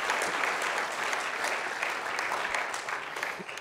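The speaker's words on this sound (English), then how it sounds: "round of applause for Gigi." An indoor conference audience claps for a speaker, a dense, sustained burst of applause that holds steady and fades slightly toward the end.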